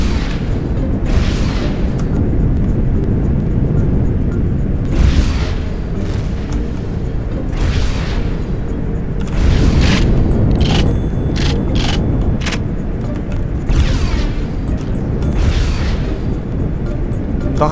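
Booming weapon fire from the space game Empyrion - Galactic Survival repeats at irregular intervals over a steady, loud background rumble during a space-station assault.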